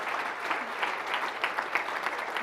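Conference audience at a tech gathering's closing session claps steadily, a dense, continuous patter of many hands that stays even and fairly close throughout.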